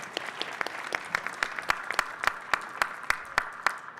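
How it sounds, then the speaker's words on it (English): Audience applause at the American Farm Bureau Convention, with many hands clapping and a strong, regular rhythmic beat of synchronized claps running through the crowd noise. "Let's all give them another round of applause."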